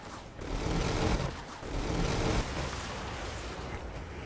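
Dense, rumbling bursts of mech weapon fire and explosions in the video game Brigador, loud and continuous with overlapping blasts and no pauses.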